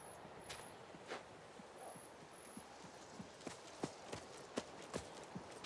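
Horse hooves clop along at a steady walking rhythm in the video game Assassin's Creed Mirage, growing a little louder and sharper, over faint background hiss.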